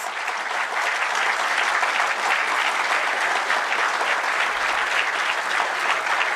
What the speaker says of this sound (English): Stand up and greet our guest with huge round of applause.